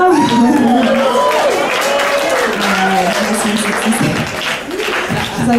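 Comedy club crowd applauds during a stand-up set, clapping and cheering swelling loudly while voices and laughter ride over the noise, with a brief dip near the end before the applause picks back up.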